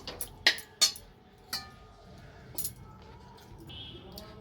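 A spoon clinks a few times against a bowl while mixing a paste of cashews, char magaz melon seeds and poppy seeds for cauliflower roast, with sharp scattered taps over quiet background hiss.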